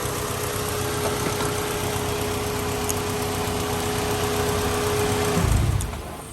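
A Honda Civic with a D16Z6 engine idles steadily up close, a constant mechanical hum with faint ticking that ends in a brief low thump.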